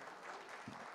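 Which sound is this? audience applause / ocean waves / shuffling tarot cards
audience applause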